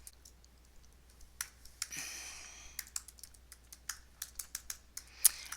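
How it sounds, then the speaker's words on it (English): Typing names on a computer keyboard: a quick, irregular run of sharp key clicks, close and clear, with brief pauses between bursts and one louder tap near the end. "Let's say I type in a few names."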